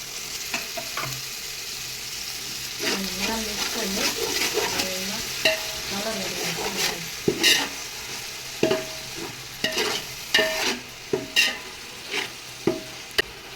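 Yogurt poured into frying ginger garlic paste for chicken biryani: steady sizzling with stirring scrapes, then a series of distinct clanks and taps of a spoon against the pot, fairly close.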